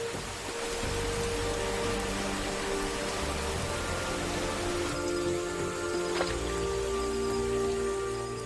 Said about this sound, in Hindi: तीन महीने तक लगातार तपती हुई जमीन पर बारिश होती रहती है।